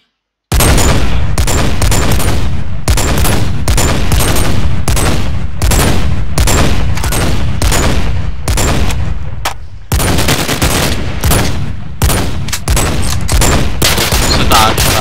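Rapid gunfire in a Minecraft Flans Mod battle, loud close shots in fast bursts separated by short pauses, filling the whole stretch with a brief gap near the middle.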